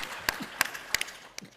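A summit panel audience, partly joining online, applauds its speakers with a few sparse, separate claps, faint and thin, spaced out rather than building into full applause.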